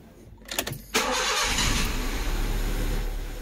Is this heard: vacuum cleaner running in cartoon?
no